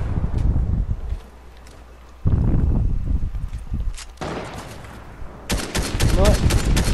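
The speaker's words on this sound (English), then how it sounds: "Nope, he does. He's shooting at me." An enemy player's gunfire in Fortnite Chapter 3 Season 3 build mode, loud irregular bursts of shots separated by short quieter gaps, growing denser toward the end.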